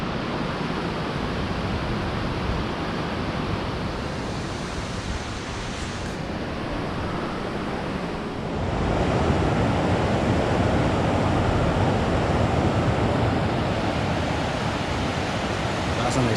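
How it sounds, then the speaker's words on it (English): The multi-tiered Triberg waterfall in Germany's Black Forest makes a continuous, dense rush of falling water that swells a little louder partway through and stays steady to the end. "It's more of a multi-tiered waterfall."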